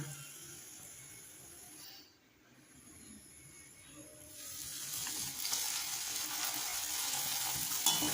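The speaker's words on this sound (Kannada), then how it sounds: "ಇದೇ ಥರ ಎಲ್ಲ ಪೂರಿನೂ ಕರ್ಕೋಬೇಕು" Puri deep-frying in hot oil, a soft, steady sizzle that grows a little louder toward the end, faint and without talking.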